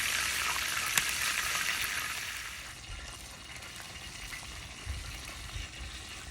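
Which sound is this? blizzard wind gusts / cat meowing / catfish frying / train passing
catfish frying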